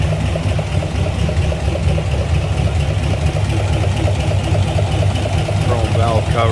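A 1955 Ford F100's 292 Y-block V8 with headers and an Edelbrock 4-barrel carburetor idles with the hood open, a steady, close, rumbling churn that runs throughout.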